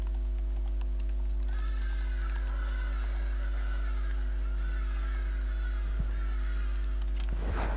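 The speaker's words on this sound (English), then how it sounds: "Even the birds are chiming in." Geese-like birds honk repeatedly in the background during an outdoor conference session, their harsh calls rising and falling over a steady low hum, with no speech heard.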